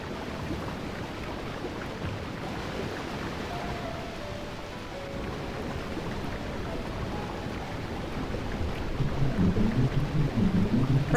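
Steady rain with low rumbling thunder in the Final Fantasy X-2 game world, a continuous wash of falling water that swells louder toward the end.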